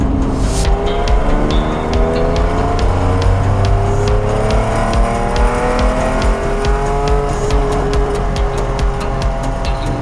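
A Lamborghini Diablo, the 1990s sports car with a manual gearbox, roars loudly throughout as it is driven hard, its engine note rising and falling through the gears with occasional tire squeal, close and continuous.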